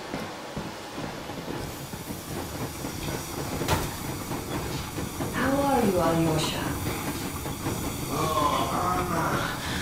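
The steam train Yermak rolls along in a video game, giving a continuous hissing, rumbling chug with faint clicking of the rails. A voice speaks partway through over the steady train noise.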